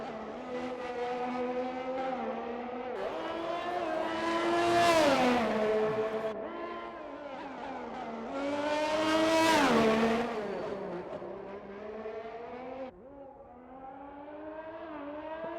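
Race cars lap the Singapore street circuit in a racing game, engine notes climbing in pitch to loud high-revving peaks, dropping sharply on downshifts, then building again in repeated waves with no talk.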